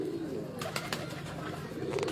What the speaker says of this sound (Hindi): फिरोजपुरी मादा और टैडी कबूतर